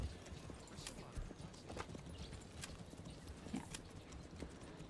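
Horse hooves clip-clopping in the medieval village game Manor Lords, a faint, quiet series of irregular hoof clops over soft ambient background, with no speech.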